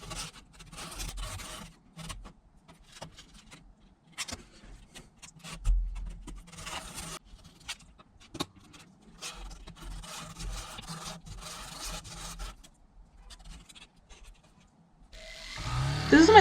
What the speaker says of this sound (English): I worked from 400 grit to 800 grit sandpaper.